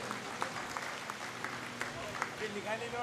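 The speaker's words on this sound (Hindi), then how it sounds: "एक बार जोरदार तालियां हो जाए इनके लिए।" Steady, energetic applause from a crowd at a community association's centenary celebration, honouring a municipal president and federation vice president, continuous clapping with a voice over it.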